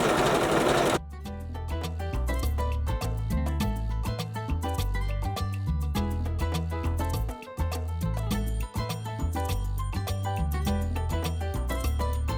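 Sewing machine running a zigzag stitch along the edge of swimwear fabric, a dense, fast, steady mechanical whir with rapid needle rhythm that carries on continuously at close range with no talk.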